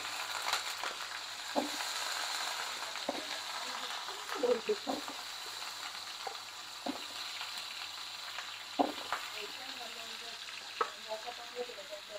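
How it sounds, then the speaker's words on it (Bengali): Potatoes frying in mustard oil for beef biryani, a steady soft sizzle running throughout with scattered clicks and scrapes of stirring, moderately close and fairly quiet. "এখন আমি বিরিয়ানির আলু ভেজে নেব"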